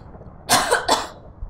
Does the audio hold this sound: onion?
no